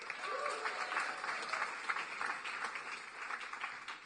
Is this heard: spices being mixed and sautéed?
no